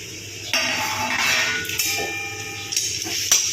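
Papaya halwa with coconut stirred in ghee in a pan, a spoon scraping and clinking against the metal in irregular strokes over a low sizzling hiss, close and moderately loud with no talk.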